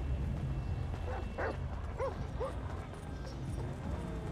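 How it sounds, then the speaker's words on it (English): Dogs bark in the video game GTA 5, a few sharp yelps and barks scattered across the moment, mid-distance, over a low rumbling background of game ambience. "These motherfucking dogs giving our position away."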